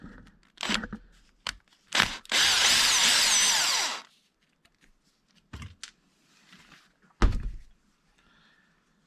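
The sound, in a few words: power driver removing screws on Traxxas X-Maxx hub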